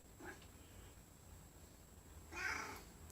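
A small cat inside a converted shuttle bus RV gives two faint meows, a short one at the start and a longer, slightly louder one near the end, with quiet background hum in between.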